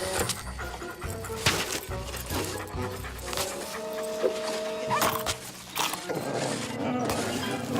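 A cartoon dog pants in quick, steady breaths, heard close and fairly loud over background music, with some voice-like sounds mixed in.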